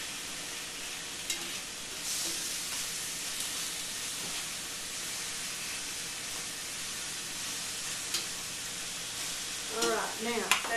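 Beef pot roast sears in a hot pan, giving a steady close sizzle with faint crackles and a few clinks near the end.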